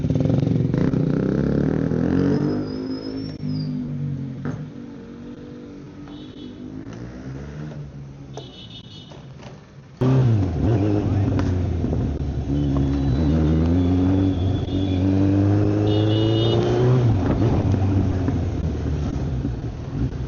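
Kawasaki Z900 motorcycle engine revved repeatedly, rising and falling throttle blips close by, with a brief pause midway before another series of loud revs.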